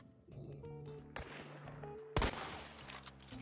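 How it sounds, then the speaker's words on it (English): Gunfire in Hunt: Showdown cracks out as a few sharp, separate shots at varying distances over an ambient game backdrop, one louder report standing out among quieter distant ones. "I see you shooting"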